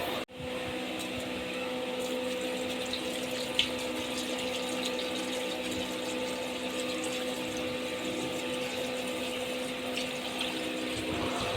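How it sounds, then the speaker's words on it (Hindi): About two litres of water pours steadily into a cooking pot holding whole spices for Sindhi beef masala pulao, a constant close rushing stream that runs unbroken for several seconds. "और तकरीबन 2 लीटर के करीब इसमें पानी शामिल करेंगे हम।"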